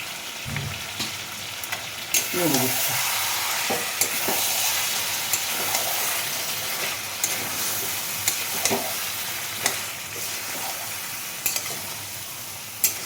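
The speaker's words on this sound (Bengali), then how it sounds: "টক বেটা ফেটে দিয়ে দিলাম" Mutton curry frying in a pan after beaten yogurt is added, giving a steady loud sizzle with a few stirring scrapes and clatters throughout, no talking.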